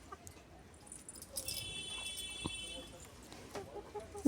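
Hens cluck softly nearby while cloth is spread in their coop, a few short calls over low rustling, with faint household noise around them.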